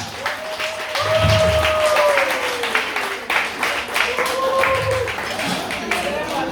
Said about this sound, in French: Je voudrais qu'on puisse applaudir tous les membres de la mission Chouchou Côte d'Ivoire.